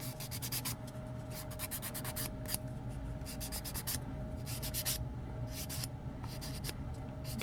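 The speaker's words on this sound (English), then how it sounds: "I'm just giving them a quick buff to make sure I got all the loose stuff off" A nail buffer rubs over gel nails in quick back-and-forth strokes, a close, scratchy rhythmic rasp repeating in short bursts over a low steady hum.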